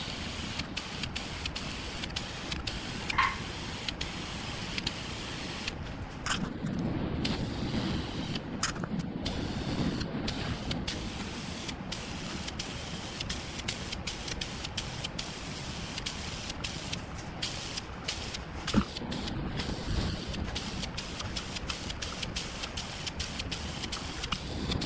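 A spray can priming the bare metal of a 1953 Farmall Cub tractor gives a steady, close hiss with short pauses and bursts across the whole stretch, without talk.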